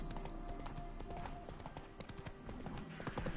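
Roach the horse trotting in The Witcher 3, hoofbeats clip-clopping in a steady rhythm, close and fairly loud over a busy game soundscape of ambient music and effects.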